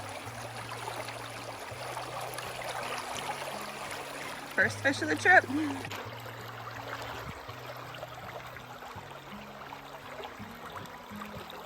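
A small forest brook trout stream in Maine flows steadily throughout, a broadband rushing wash close by, while someone talks over it and a brief louder splash or handling noise comes midway.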